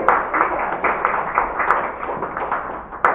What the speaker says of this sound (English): Give her a round of applause for knowing how old